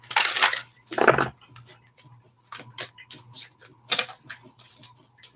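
Tarot cards riffled and shuffled by hand in a few crisp bursts, with softer flicks and taps in between, close to the microphone and heard alone over a faint steady hum.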